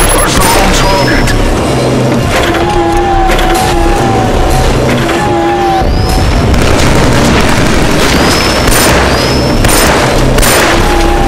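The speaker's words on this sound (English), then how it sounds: "Take the pistol on the counter. Destroy the close targets on the range." Pistol shots fired at close targets on a shooting range in the video game Killzone 3, a series of loud booming reports over constant dense game noise and music.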